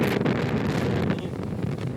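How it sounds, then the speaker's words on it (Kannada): Strong wind blows across a hilltop, buffeting the microphone with a loud, continuous low roar that surges and eases slightly over two seconds, with no voices. "ಗಾಳಿ ಹೆಂಗ್ ಬಿಸ್ತಿದೆ ಗೈಸ್"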